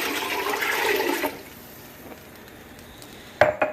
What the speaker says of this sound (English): okay, so I'm going to add another 4 cups of water.